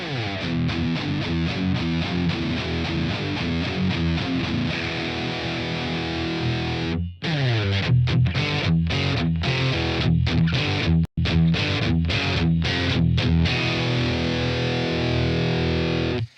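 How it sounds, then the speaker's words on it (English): Heavily distorted electric guitar plays sustained chords and then choppy, rhythmic stabs with brief silent gaps between them, loud and close, with no voices. "let's go ahead and crank up the distortion and listen to the difference"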